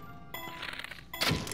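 Arrows striking ice-frozen targets in Zelda: Breath of the Wild during the Gee Ha'rah shrine, a brief game impact thunk and crack followed by a brighter shattering hit, close and moderately loud over soft game ambience.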